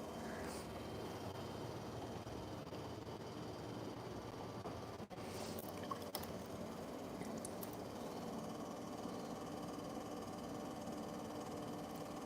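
An electric pottery wheel spins steadily while a clay wall is pulled up, giving a continuous motor hum with a faint rhythmic rubbing throughout, quiet and close.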